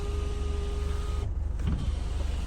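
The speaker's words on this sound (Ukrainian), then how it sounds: "Ось так відкривається люк. Все працює." The electric sunroof of a Renault Koleos 2.0 dCi 4x4 hums open with a steady motor whine close by, ending in a soft clunk as it stops over a constant low cabin drone.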